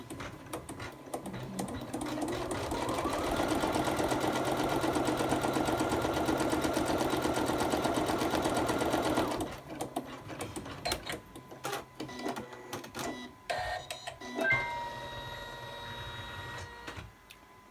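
An embroidery sewing machine stitches a line on a hooped pencil case, making a fast, even mechanical whirr and clatter for several seconds before it stops, followed by scattered clicks and handling noises.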